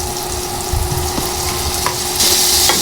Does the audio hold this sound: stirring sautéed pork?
yes